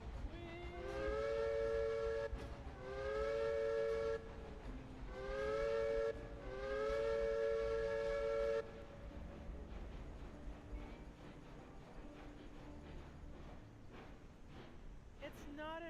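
Two coupled steam locomotives in the game Railroads Online sound long whistle blasts in four repeated bursts over a steady rumble of the running engines, then the rolling rail noise continues alone.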